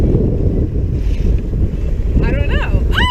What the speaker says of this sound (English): we have awesome winds